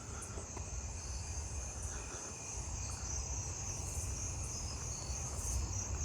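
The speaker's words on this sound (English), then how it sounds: "I think I was hearing a sage trig just now" A sage trig cricket calls outdoors in a steady, continuous high trill, joined by other insects in a dense nighttime chorus with a low background rumble throughout.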